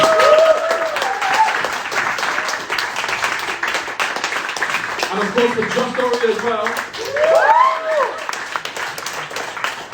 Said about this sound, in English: Can we have a round of applause for all the open micers?